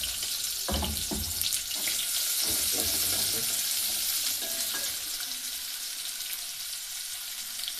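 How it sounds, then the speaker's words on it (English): Onions hit a hot pan and fry with a loud, dense sizzle, some stirring scrapes early on, then the hiss settles into a steady crackle, close up and without speech. "Now we're going to add our onions first. We have to cook the onions first."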